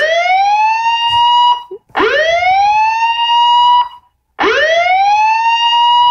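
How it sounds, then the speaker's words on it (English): A siren sound effect from a TV commercial: three loud, rising electronic wails, each climbing in pitch and holding before cutting off, separated by short gaps. "I hate when I'm in the car and you get a commercial that has a siren in it."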